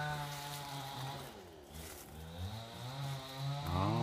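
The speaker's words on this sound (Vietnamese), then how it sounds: "Bên phía bên kia người ta đang cưa cây" A chainsaw whines steadily at a moderate distance, its pitch rising and dipping as it bites into wood while cutting trees, with no voices over it.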